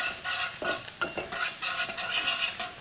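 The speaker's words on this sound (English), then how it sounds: "You want it sizzling, you want to bring out the flavor on a medium-high heat." Garlic sizzles in hot oil over medium-high heat for a spicy Hunan chilli beef stir fry, a close, steady frying hiss broken by repeated scraping stirs of the spatula.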